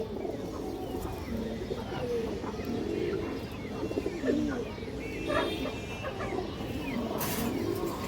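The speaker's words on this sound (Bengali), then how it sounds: "দর্শক লাল গিয়ারের একটা ঝাঁক গলা নর কবুতর আছে" Pigeons coo softly and intermittently in a low, throaty murmur, among a loft of red-eyed male high-flyer pigeons for sale, with faint chirps and light background noise.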